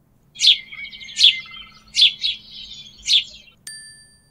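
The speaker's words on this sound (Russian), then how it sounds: "Покажи воробья. Он маленький и серенький." A sparrow chirps in a series of four or five short, bright, close tweets in an even rhythm against silence, followed by a single clear ringing chime.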